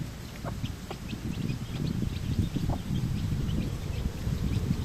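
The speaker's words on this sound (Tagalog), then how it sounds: "Cute ng native chicken ko mga tropa. 7 piraso. Bagong pisa." Native chickens with a brood of seven newly hatched chicks make soft, scattered peeps and clucks close by, over a busy background of scratching and shuffling.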